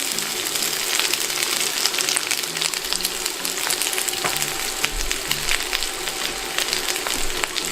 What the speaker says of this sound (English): And we're going to fry this for a few minutes till they go lightly brown